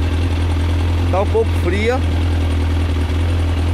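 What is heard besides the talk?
Kawasaki ZX11 motorcycle engine idling slightly lean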